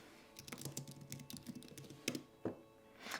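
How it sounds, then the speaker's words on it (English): Quick bursts of keystrokes on a computer keyboard as a command is typed into a terminal, a string of close, crisp clicks with a couple of sharper key hits near the end. "by typing git -- version into the terminal"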